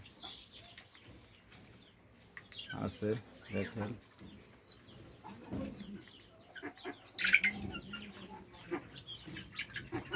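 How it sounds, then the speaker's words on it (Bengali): Young two-month-old native desi chickens clucking on a new farm, scattered close clucks and squawks coming and going, with someone talking over them. "দেখেন আমার দেশি মুরগি"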